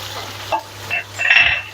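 Chicken coated in ginger-garlic paste fries in a pot for Sindhi biryani, giving a brief stir with a scrape of the spoon and a short burst of sizzling, nearby and fairly loud.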